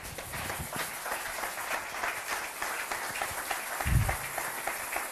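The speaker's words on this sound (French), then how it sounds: "Applaudissez le Seigneur." A church congregation clapping together at a French-language service, a dense, steady wash of hand claps with a rhythmic pulse throughout, moderately loud, with a brief low thump near the end.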